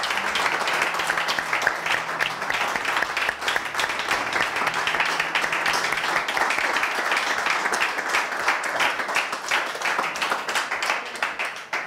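Sustained applause from the audience of a cooking competition semifinal, dense steady clapping filling the whole stretch at an even loudness.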